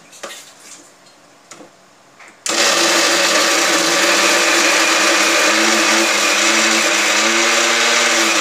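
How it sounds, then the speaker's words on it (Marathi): A kitchen mixer grinder starts abruptly after a few soft clicks and handling sounds, then runs loud and steady, whirring as it grinds roasted masala for a cashew curry. "आणि नंतर मिक्सरमध्ये वाटून घेऊया"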